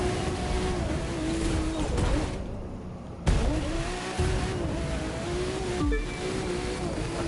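A Porsche racing in the video game The Crew 2 gives a loud, continuous engine roar that rises and dips with gear changes and brief surges, with no talk over it.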